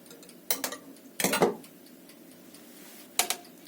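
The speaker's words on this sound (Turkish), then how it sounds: "Şimdi şişlerimi tekrar üzerine koyuyorum." Metal skewers of şiş köfte set down onto pita bread, giving three short clinking metallic clatters, the middle one longest, with quiet gaps between.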